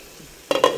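Meat cooking in a pan on a home stove, a soft background hum suddenly giving way to a loud close sizzle and stirring that swells in two bursts near the end.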